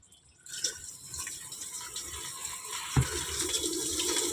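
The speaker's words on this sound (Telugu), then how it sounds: "దాంతో నింపుకొని జగ్గుతో పోసుకోవచ్చు నీళ్ళు" Water filling into a bucket at home and poured out with a jug, a steady close splashing and running stream with one sharper slosh midway, no voices.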